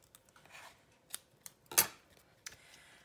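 Paper scissors trim the end off a stamped card front in a quiet craft room, giving a few faint snips and one sharper, louder cut partway through.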